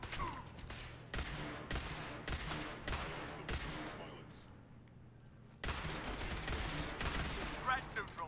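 Gunfire in the Fallout 4 video game during a firefight in a bottleneck: rapid bursts of loud shots and sustained automatic fire, briefly thinning in the middle before resuming heavily.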